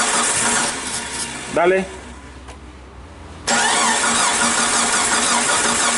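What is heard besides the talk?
Jeep Cherokee XJ engine cranking, trying to start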